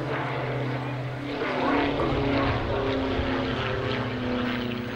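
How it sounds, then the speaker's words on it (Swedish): A Diamond DA-42 twin-engine light aircraft flying an air show display, a loud steady engine and propeller drone with shifting tones as it passes, heard alone without talk. "Och här kommer en häftig uppvisning med Diamond DA-42."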